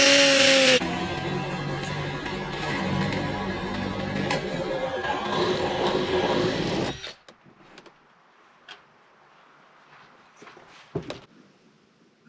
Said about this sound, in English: I hate drilling holes in the canopy, but or the rooftop, but it's gotta be done